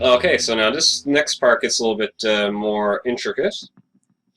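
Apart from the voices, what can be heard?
No everyday noises stand out.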